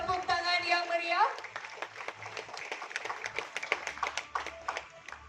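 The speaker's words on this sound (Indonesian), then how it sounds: "Kita iringi dengan tepuk tangan yang meriah." Audience applause at an Indonesian national dialogue event: after a brief tone, scattered hand claps ring out in a moderate, uneven patter that thins toward the end, with a voice speaking beneath.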